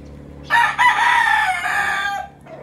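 A pure Tornado Hatch rooster crows once, loud and close, in a single sustained call lasting about two seconds against a quiet farmyard background.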